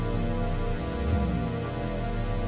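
Heavy, droning car subwoofer bass filling the low end, loud and continuous with a dense rumbling texture and no clear breaks.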